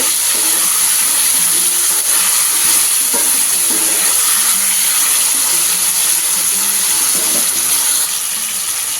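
Ginger paste cooking down in a pan for vegetable biryani, a loud continuous hiss and sizzle with a few scraping stirs near the middle, heard up close without talk.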